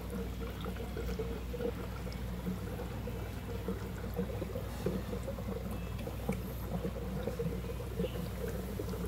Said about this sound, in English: As it brews, you will see bubbles foaming in the system